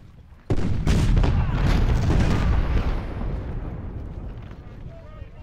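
Cannon fire in the Civil War strategy game Ultimate General: Civil War, a sudden loud boom that rolls into a sustained rumbling barrage and slowly fades, with speech detected underneath.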